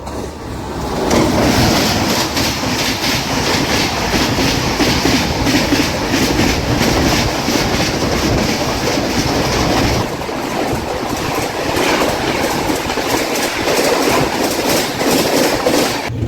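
The Agartala–Bengaluru Humsafar Express passes at Nuzvid railway station with a loud, steady rumble of wheels and wagons and rhythmic clickety-clack that runs for the whole stretch, easing slightly partway through.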